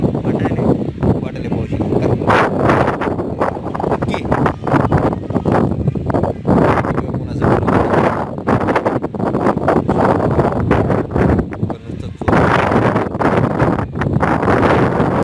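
Strong wind gusts rush steadily through trees as a storm and rain approach, a loud, dense roar that swells and eases throughout with no break.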